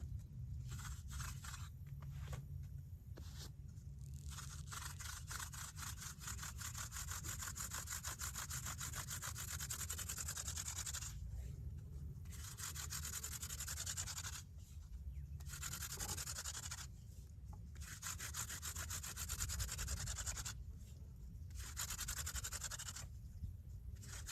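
A wooden hand-drill spindle is spun against a board to make friction fire, producing a steady close scratching grind in repeated bursts separated by short pauses.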